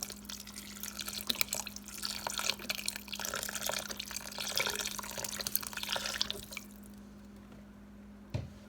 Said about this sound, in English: I also like to add some vegetable broth to this too.